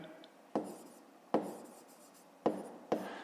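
A pen writes in a notebook during a fifth-grade maths exercise, with sharp taps as it meets the page and soft scratching strokes in between, close and quiet.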